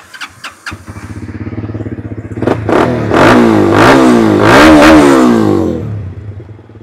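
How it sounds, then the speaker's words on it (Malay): A 2013 SYM T2 250i motor scooter engine sputters to life with a few quick pulses, then revs up and down loudly several times at close range. "kita start bagi korang dengar engine"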